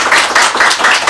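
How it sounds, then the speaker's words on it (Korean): Audience clapping in a welcome for an author at a Korean book talk, a short dense burst of many hands, loud and close, with no voices over it. "큰 박수로 환영합니다."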